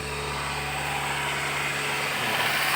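The engine of a Nissan Livina holds a steady 2000 RPM, a constant close hum with a faint high whine, unchanging and without speech.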